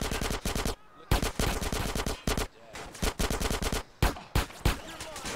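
Rapid bursts of automatic gunfire from GTA San Andreas, loud and close, firing in repeated volleys separated by brief pauses across the whole stretch.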